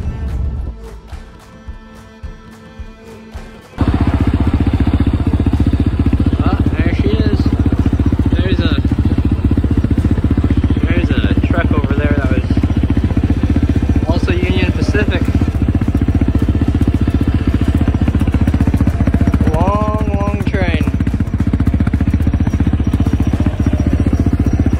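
A dirt bike engine starts up loud and close after a few quieter seconds, then runs in a steady, rough drone throughout, with voices now and then over the top.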